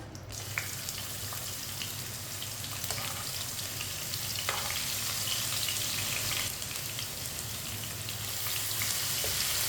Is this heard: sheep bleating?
no